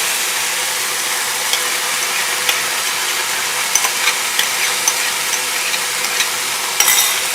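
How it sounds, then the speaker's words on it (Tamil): Cooked dal stirred into banana flower frying in a pan, a steady soft sizzle with light scraping and clicking of the spoon against the pan, close and continuous. "இப்போ வேக வச்ச பருப்பு போட்டுடலாம்."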